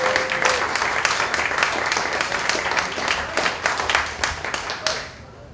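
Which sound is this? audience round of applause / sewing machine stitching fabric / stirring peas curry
audience round of applause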